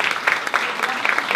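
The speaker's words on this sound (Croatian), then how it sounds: "Tako da sada pozdravimo sa velikim pljeskom naše dvije večerašnje gošće" An audience at an evening talk event claps steadily and warmly to welcome two guests, a dense, even wash of applause with no gaps.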